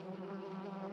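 A beehive in a cartoon gives off a steady, droning hum of buzzing bees, continuous and fairly faint, with no talking over it.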